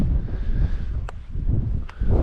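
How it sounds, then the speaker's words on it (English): Strong, blustery wind on an island buffets the microphone with a low, continuous rumble that swells and eases in gusts, with no one speaking. "it's really blustery here now, really windy"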